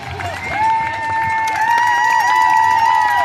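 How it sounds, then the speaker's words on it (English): Spectators line the course at mile 24 of the NYC Marathon, cheering and shouting at runners in a sustained outdoor roar, with loud individual voices rising over the crowd. "It's time everyone starts screaming at that moment."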